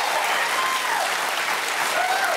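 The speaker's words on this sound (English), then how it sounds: "Round of applause. Thanks people for coming." A talk show studio audience applauds, a steady full wash of clapping and light cheering filling the room without pause.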